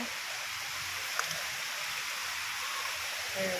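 Steady rain pours down at a house in a constant, even hiss, with faint voices low underneath.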